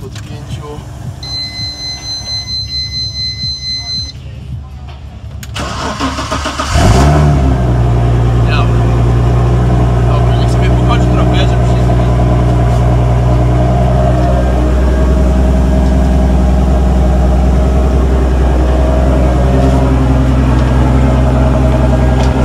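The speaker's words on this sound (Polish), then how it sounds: "samochód odpalił" A car engine cranks and catches, then settles into a loud, steady running drone close by, after some quieter background sound.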